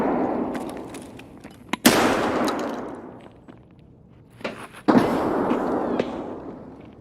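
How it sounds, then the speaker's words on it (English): Two sharp grenade blasts in a video game shooter, each a sudden loud crack followed by a decaying rumble, spaced about three seconds apart with scattered smaller thumps between. "There's somebody up here chucking grenades."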